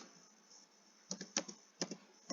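Python code being typed on a computer keyboard: a quiet lull, then a handful of sharp, close key clicks in two short bursts.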